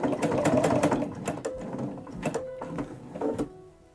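A sewing machine stitching a quilted project bag runs in quick rattling bursts, loud and close, with short pauses between runs as the stitching stops and restarts.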